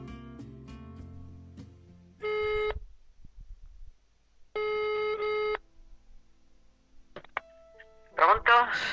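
Several bursts of a telephone ring with steady harmonic tones, separated by pauses, with some beeps, and a short clipped burst at the end.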